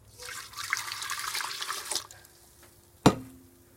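Descaling solution mixed with hot water poured from a jug into a coffee machine: a steady close splashing stream for about two seconds, then quiet and a single sharp clunk near the end.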